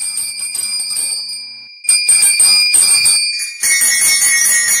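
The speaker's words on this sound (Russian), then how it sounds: "Вот так звучит колокольчик." Small hand bell (kolokolchik), an antique found while digging for old coins, rings in repeated loud bright strokes with sustained shimmering overtones, growing fuller after a short pause; no talk.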